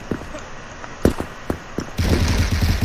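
Krunker.io gunfire: a few sharp single shots spaced out, then a dense rapid stream of automatic fire, loud and close.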